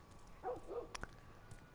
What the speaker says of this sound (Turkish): bak köpek avlıyor filan